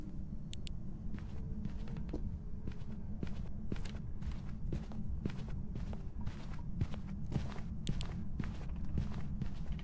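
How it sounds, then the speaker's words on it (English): Ghost footsteps in the horror game Phasmophobia during a hunt, a steady run of evenly spaced thuds over a constant low rumble, no voices. "And now listen again to the footsteps."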